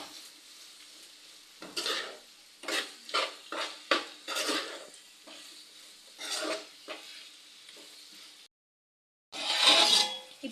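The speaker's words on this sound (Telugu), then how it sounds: "టమాటా కొంచెం మంచిగా ఫ్రై అయిన తర్వాత మనం ఇలా మొత్తం కర్రీని మిక్స్ చేసుకోవాలి." A beans curry with tomato being stirred and mixed in a pan gives a series of separate scraping strokes over a faint background, then a short silence and one louder final burst of mixing.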